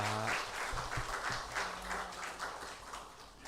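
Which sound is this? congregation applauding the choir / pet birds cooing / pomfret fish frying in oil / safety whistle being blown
congregation applauding the choir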